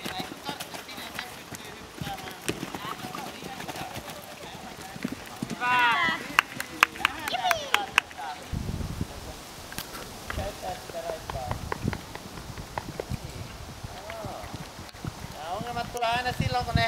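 Horse hooves clip-clopping on the ground during a horse riding training session, moderately near and irregular in rhythm, with wind noise and a person talking over them.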